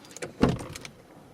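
A car door opens just after the ignition key is switched off, giving a single close clunk followed by a short rustle in a quiet cabin.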